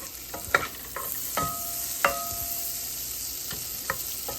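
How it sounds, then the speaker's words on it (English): Butter melting in a hot pot, with a soft steady sizzle and intermittent metal clinks and taps from a utensil stirring, close up and with no talking. "So I have this pot nice and hot. Put the butter in here. Get the butter melted down first."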